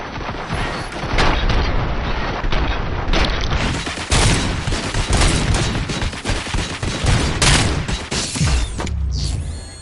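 Loud gunfire from the video game Robocop: Rogue City, sustained bursts of sharp shots and booming impacts with mechanical clatter, close and dense for nearly ten seconds.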